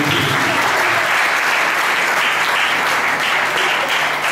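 A church congregation claps and cheers together in steady, loud, sustained applause that fills the whole stretch without pause.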